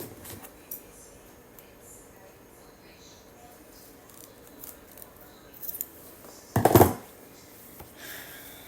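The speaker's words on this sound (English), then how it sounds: "you can cut your ribbon lace." Scissors snip through ribbon lace during a sewing project. A few faint, quiet cuts are followed by one louder, sharper close snip near the end.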